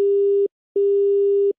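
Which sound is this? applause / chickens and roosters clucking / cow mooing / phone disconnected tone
phone disconnected tone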